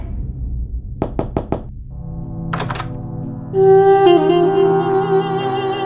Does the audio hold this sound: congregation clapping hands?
no